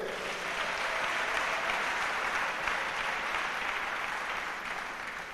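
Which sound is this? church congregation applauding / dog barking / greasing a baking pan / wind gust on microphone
church congregation applauding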